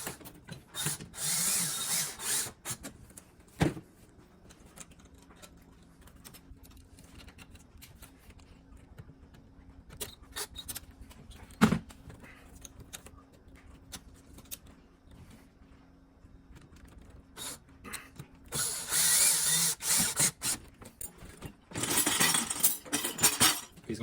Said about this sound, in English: Now we need to put our screws back in.